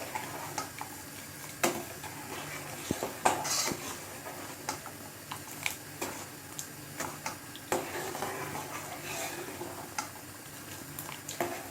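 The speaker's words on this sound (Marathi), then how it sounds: "टाकल्यावर असं छान ढवळायला सुरुवात करायची आहे" Spoon stirring sugar into milk for sheer khurma in a pot, giving soft irregular clinks and scrapes against the metal over a low steady background, with no talking.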